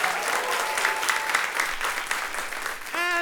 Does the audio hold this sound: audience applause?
yes